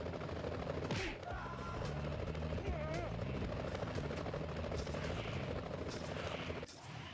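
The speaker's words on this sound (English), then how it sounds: "Police choppers." Police helicopters fly overhead with a steady, loud rotor thrum that fills the whole stretch, mixed with other busy background sounds and voices.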